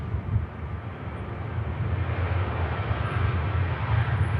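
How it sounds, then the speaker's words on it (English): A jet airliner at Manchester Airport pushing back from the pier, heard as a steady, low engine rumble and broad roar that continues without a break, with no voices. "Also have an EasyJet 320 pushing back Romeo X-Ray for Geneva there"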